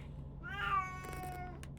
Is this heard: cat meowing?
yes